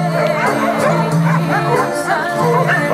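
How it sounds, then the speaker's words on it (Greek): A dog gives yips and whimpering barks close by over a busy crowd background at a dog contest in Greece, the calls repeating in short bursts. "Βάζω το σκυλί εδώ"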